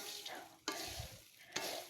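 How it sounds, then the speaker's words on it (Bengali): Corn kernels fry in a covered pan, giving a faint sizzle broken by two sharp, separate pops about a second apart. "ফোটা শব্দ পাইতেছেন"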